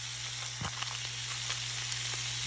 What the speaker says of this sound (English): So now I'm just going to cover it and let it sizzle for a while.